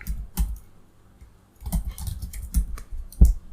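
Keys clatter on a computer keyboard in short, irregular bursts of clicks, close and fairly quiet, with brief pauses between the bursts.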